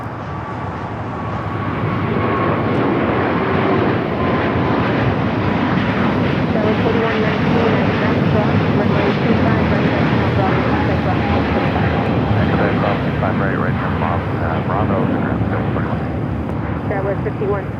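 Airliner taxiing at Los Angeles airport, a loud, continuous broadband jet roar with a steady rumble held for the whole stretch, with talk underneath.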